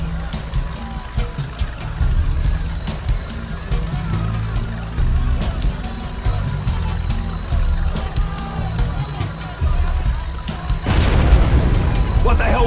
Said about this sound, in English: What the hell was that? We've got explosions!